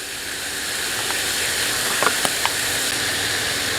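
Chicken cutlets browning in a pan outdoors, a steady close sizzling hiss with a few faint pops and clicks near the middle.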